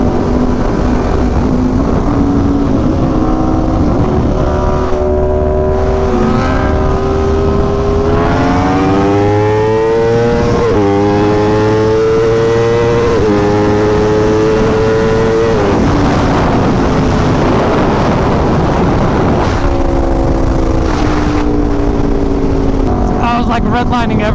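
Aprilia RSV4 1100 Factory motorcycle engine revving hard to the redline through successive gears, loud and close, with rising wails that drop sharply at each shift and continue steadily throughout.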